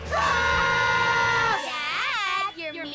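Cartoon characters scream together in a loud, sustained shriek, then break into wavering, warbling wails and yells as they are thrown around by a game controller.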